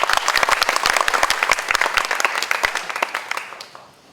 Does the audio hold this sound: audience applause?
yes